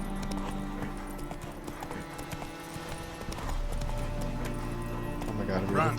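Hooves of the horse Roach clip-clop in a quick galloping rhythm through the Witcher 3 game world, steady and close over a low background hum, with a brief whinny-like sound near the end; a voice speaks over it.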